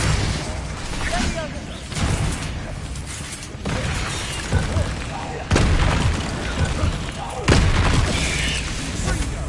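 Confringo and Incendio spell blasts from Hogwarts Legacy go off as loud, repeated booms and crashing bursts, several heavy hits in quick succession, with a voice calling out over the combat.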